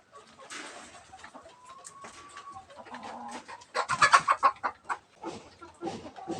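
Several chickens cluck in short bursts while three newly arrived birds are handled for deworming, with a louder cluster of calls in the middle and quieter clucks around it.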